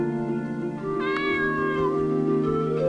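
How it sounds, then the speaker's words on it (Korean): A cat meows once in a video game, a clear tonal call rising and falling over a steady sustained music-like drone, heard alone without talk. "고양이 소리가 나네"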